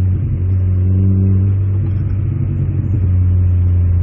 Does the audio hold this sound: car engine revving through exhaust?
yes